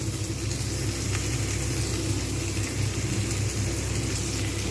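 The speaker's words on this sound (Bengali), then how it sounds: "টমেটোটাও কিন্তু আমি ভালোভাবে ভেজে নেব" Tomato frying in a small amount of oil for a Bengali banana-flower curry, giving a steady, close, continuous sizzle with no talking.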